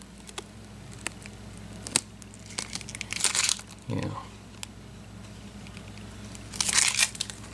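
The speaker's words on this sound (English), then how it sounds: "I'm going to peel this off, go around with the scraper, and then stick it on" Protective film peeled off a homemade acoustic guitar pickguard, giving crinkling, crackling bursts at close range, with a longer tearing rush near the end and scattered small clicks in between.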